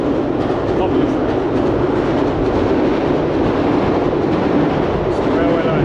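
A train rumbles past close by on a railway line beside a river near a Tokyo allotment, a loud continuous roar with rhythmic wheel clatter, with faint talk mixed underneath.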